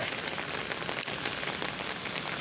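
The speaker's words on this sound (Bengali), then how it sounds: "আজকে সেরকম গাড়ি ঘোড়া নাই, কারণ হলো বৃষ্টি প্রচুর।" Steady, dense hiss of heavy rain pouring down continuously on a city street in Rajshahi, close and even, with no voices.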